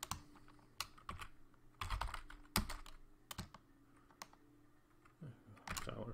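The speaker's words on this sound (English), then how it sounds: "Now we're going to type in a variable for something that's not there" Keys clatter on a computer keyboard at a Linux bash shell in quick, uneven bursts of sharp clicks, with short pauses between runs of keystrokes and no talking.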